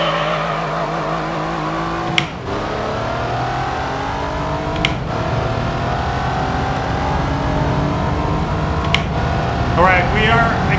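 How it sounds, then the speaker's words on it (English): A car accelerates in Gran Turismo 3, the engine rising steadily through the gears with brief dips at each shift, loud and continuous, while a person talks over it. "we are accelerating faster than before"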